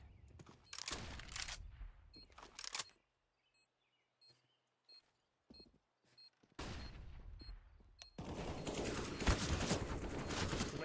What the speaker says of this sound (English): Flashbang out. I am throwing a grenade.